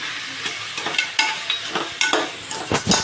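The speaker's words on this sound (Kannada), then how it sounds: "ಈ ಥರ ಫ್ರೈ ಮಾಡ್ಕೊಳ್ಳಿ" Mutton with rock salt fries in a pan, a close hiss carrying a regular series of sharp scraping stirs, roughly two per second, with no talking.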